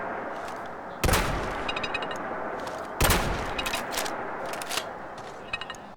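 Handmade pipe shotgun mod in Fallout 4 fires twice, about two seconds apart, each loud blast followed by stiff metallic clanking as the weapon is worked and cycled, with scraping mechanical clicks between shots and no talking.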